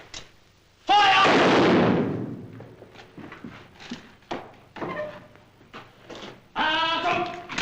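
A rifle volley from a firing squad bursts out loud and sudden, a single heavy crack with a long ringing decay, followed by scattered fainter knocks and a voice near the end.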